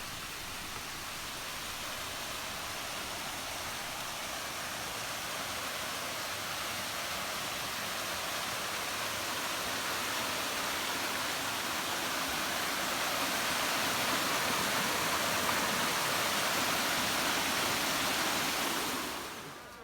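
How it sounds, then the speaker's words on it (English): A small stream flowing near a railway track close to the Nine Arch Bridge in Demodara near Ella, Sri Lanka, a steady, even rush of water that holds for about twenty seconds before tapering at the end. "we saw this little stream of water flowing"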